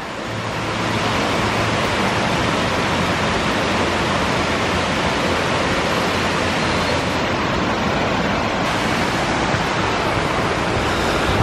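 A waterfall cascade in full flow on the Massif Adventif near Mont-Dore, heard as a loud, steady broadband rush of falling water that fills the scene without pause.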